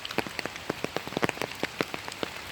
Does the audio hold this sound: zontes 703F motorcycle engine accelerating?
no